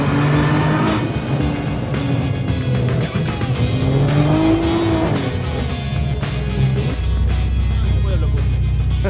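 A Nissan GT-R tuned to 700 hp accelerates hard on a race track, its engine note climbing loud and close, with a gear shift dropping the pitch before it pulls again and tires chirping, while people talk over it.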